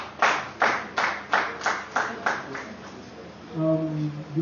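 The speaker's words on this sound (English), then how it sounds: "Please let's give her a decent clap as we proceed." Audience at a business meeting claps in a slow, even rhythm of about eight claps, close and clear, then a voice starts speaking as the clapping fades.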